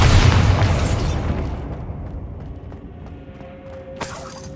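A Bombarda blasting spell in the video game Hogwarts Legacy erupts as a loud, close explosion that decays into rumbling debris over several seconds, with a sharp crack near the end.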